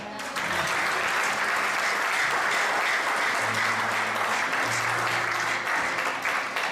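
A church congregation at an evening service claps hands together in sustained, dense applause that rises quickly and holds loud for several seconds, with a low hum from the sound system beneath.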